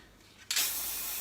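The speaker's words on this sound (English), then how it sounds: "there's a lot of spray paint going around my kitchen at this point" A spray paint can bursts into a sudden, loud continuous hiss indoors in a kitchen while hydro dipping a mountain bike helmet, steady after a quiet start.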